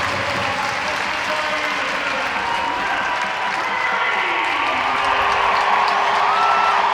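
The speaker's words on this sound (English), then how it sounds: "Listen to the appreciation shown by this home crowd." Home crowd at a Sheffield Steelers versus Coventry Blaze ice hockey game applauding a save, sustained arena clapping and crowd noise that swells slightly toward the end.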